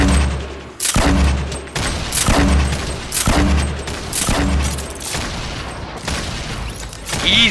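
Gunfire in the Fortnite battle royale video game, a series of loud, sharp shots in uneven bursts about every second, each with a booming low tail, close and without talking.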